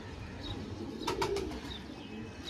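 A pair of Chinese homer pigeons gives a brief, soft coo in the middle of an otherwise quiet, low background hum.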